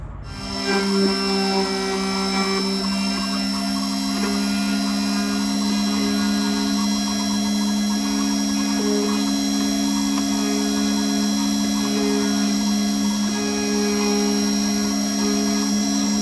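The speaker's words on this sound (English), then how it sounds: "So now let's go ahead and cut the other side." Keyline 303 key cutting machine cutting the second side of a car key, a steady high-pitched whine with strong tonal hum and grinding, loud and continuous from start to finish.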